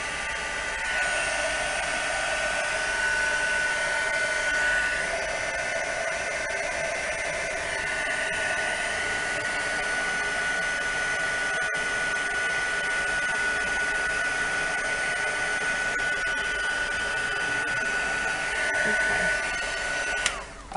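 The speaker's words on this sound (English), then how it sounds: "Be careful when you're using your heat gun, they can get very hot and burn you" A heat gun blows hot air over coffee-dyed lace in a steady, loud, continuous roar lasting about twenty seconds before cutting off abruptly, with no voices over it.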